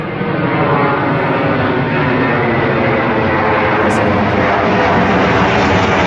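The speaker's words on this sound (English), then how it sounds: "an aeroplane come over my head" Loud, steady broadband roar of an aeroplane passing overhead, holding close and constant for several seconds with no talk over it.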